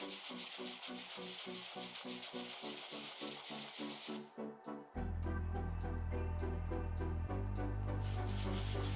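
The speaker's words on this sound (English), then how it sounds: "I sanded the cut edges to ensure a smooth finish." Sanding the bandsaw-cut wooden edges of a handmade ring box, with a close, rhythmic back-and-forth rasping that later gives way to a steadier, harsher abrasive hiss.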